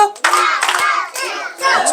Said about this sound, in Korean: 자, 집중의 박수